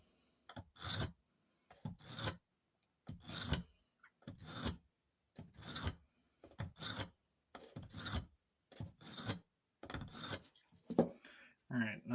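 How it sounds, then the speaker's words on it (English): Small hatchet blade drawn through a fine ceramic sharpener, about a dozen evenly spaced raspy strokes, each lasting under a second, close and quiet with no talk. "just run the blade through the fine ceramic sharpener a few times and see what"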